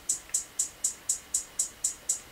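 Closed hi-hat in a simple beat, ten crisp, evenly spaced ticks with short decays repeating at a steady rhythm, played alone at moderate level.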